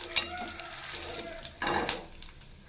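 Cumin, pepper, cashews and curry leaves sizzle as they fry in hot oil for a kara pongal tempering, a soft crackling hiss with brief stirring clatters, fairly quiet and close.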